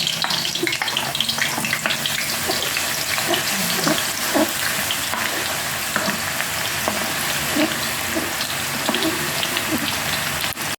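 Onions fry in a generous amount of cooking oil for chicken pastil, a dense continuous sizzle and crackle, close and steady throughout.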